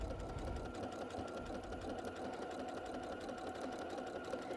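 A sewing machine stitching over couched cord, guided by hand, running as a steady, close, continuous mechanical whir throughout.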